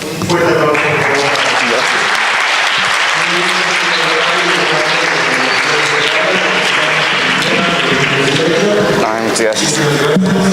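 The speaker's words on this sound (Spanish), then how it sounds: "un fuerte aplauso, por favor." Loud, sustained audience applause fills a lecture hall after a talk on cinema, steady dense clapping throughout with some voices mixed in.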